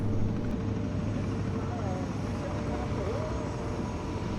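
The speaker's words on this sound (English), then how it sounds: "My ride to base camp today was this beautiful Eurocopter AS350" A Eurocopter AS350 helicopter, originally delivered in 2016, hums with a steady engine and rotor drone and a low throbbing tone, loud and continuous, with faint voices over it.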